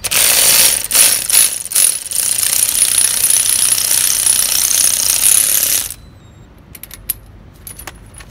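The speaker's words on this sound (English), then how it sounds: "Now I'm removing the wheel nut with an electric wrench." Electric impact wrench loosening a wheel nut on a 2014 Ford Kuga 1.6, a loud close rattling hammer burst for about six seconds, then quieter clicking and handling noises.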